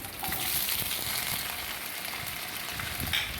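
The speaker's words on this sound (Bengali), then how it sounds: "এইগুলো খুব দেরিতে সেদ্ধ হয় সেই জন্য আগের থেকে একটু ভেজে নিচ্ছি" Potatoes, beans and carrots frying in mustard oil in a pan give a steady, close sizzle that crackles evenly for a few seconds with no voices.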